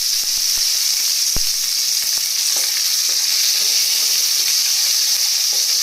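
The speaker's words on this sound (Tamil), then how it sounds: "கடுகு பொரியட்டும்." Mustard seeds splutter in hot oil while tempering for a chutney, a loud, steady hiss of sizzling with scattered sharp pops and crackles throughout.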